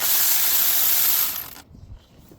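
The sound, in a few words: ratchet removing 8mm bolts, Ford F150 water pump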